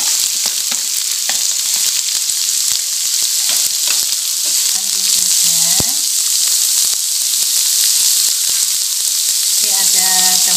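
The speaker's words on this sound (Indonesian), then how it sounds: "Sudah harum, sudah menguning, kita masukkan buncisnya." Green beans added to hot oil with fragrant, yellowed aromatics for a vegetable filling, sizzling loudly and continuously in a pan, with occasional stirring scrapes and clinks over the dense frying hiss.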